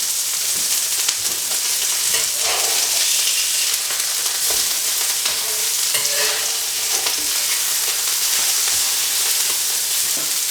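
A burger patty and bacon bits sizzle loudly on a hot surface as they are flipped. A dense, steady frying hiss fills the whole stretch, with a few scraping clicks from the turner.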